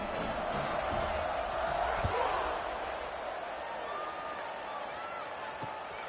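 A football stadium crowd buzzes steadily after a score, a broad continuous roar of many voices filling the space, with a brief thump partway through and a commentator talking over it.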